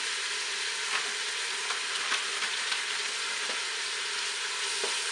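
Beef for Lebanese rice fries in a pan with a loud, steady, close sizzle and hiss that stays constant throughout, broken only by faint occasional stirring clicks, with no voices.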